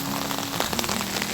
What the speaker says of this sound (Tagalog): Lakas lang ng ulan.